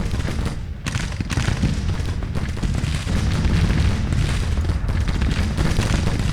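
Civil War artillery in Grand Tactician: Civil War fires in repeated deep booms over a steady rumbling battlefield din that stays loud and dense throughout.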